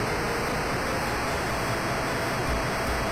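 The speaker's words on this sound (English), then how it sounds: "I believe you have to run because water starts to fill up this galley." Water rushes in to flood a ship's galley in the World of Illusion video game, a steady broadband roar like a waterfall that holds constant and fairly quiet throughout, with no talk.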